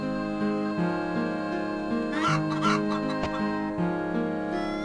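Chickens cluck in the video game Wild Arms, a few short clucks layered over steady looping game music with a brief rustling burst in the middle, no voices.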